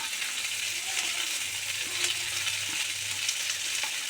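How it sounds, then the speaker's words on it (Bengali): Onions and capsicum stir-fried in a pan for a spicy chicken dish, giving a loud, continuous hiss of frying with small scraping taps from stirring, up close and without any talking. "ক্যাপসিকাম পেঁয়াজগুলো একটু নেড়ে নিয়েছি।"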